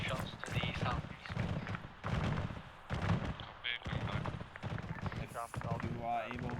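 Gunfire in the military shooter ArmA 3, a series of cracking shots and bursts at varying distances, mixed with voices talking over radio-like chatter throughout.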